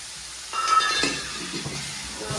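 A tempering for Bhavnagari-style bhungla bateta hits hot oil in a pan. It gives a sudden close sizzling burst, and then a softer, steady crackle follows with light stirring scrapes.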